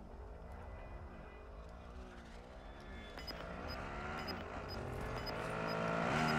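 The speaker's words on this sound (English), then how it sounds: "Quad near me on my left." Quad bike engine in Warzone 2.0 drawing nearer, a steady revving motor with rising and falling pitch that swells louder toward the end, heard alone amid game ambience.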